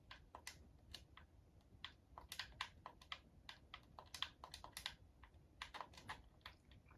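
Keys clatter on a keyboard at close range in quick, uneven bursts while a search term is entered, with short pauses between runs and no voice.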